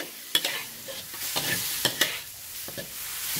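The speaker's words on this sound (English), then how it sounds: "Just a couple of stir until the egg is cooked" Bitter gourd and egg stir-fried in a pan, a soft sizzle broken by a few sharp spatula knocks and scrapes, close and fairly quiet, with no voices.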